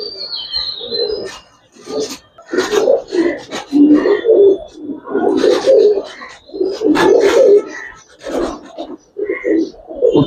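Pigeons, including a Gribaz pigeon, coo repeatedly in a series of loud, close, throaty phrases with brief pauses between them, along with a few sharper chirps and faint rasping.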